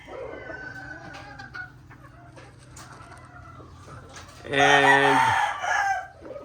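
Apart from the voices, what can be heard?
chickens clucking and rooster crowing, Golden Monkey Sweater breed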